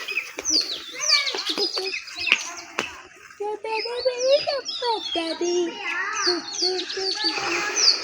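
Sparrows and other small birds twitter close by in dense, overlapping chirps and trills, while someone talks faintly amid the calls.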